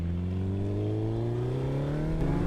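A Suzuki Hayabusa motorcycle engine revs up steadily, its pitch climbing smoothly over a couple of seconds; a close, continuous mechanical drone with no talk.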